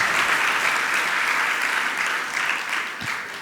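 An audience at a religious discourse claps together in sustained, dense applause, loud and steady, fading slightly near the end.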